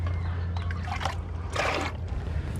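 Water trickles and drips off a car after a rinseless wash rinse, clearing residue in short uneven splashes, with a brief louder gush midway over a steady low hum.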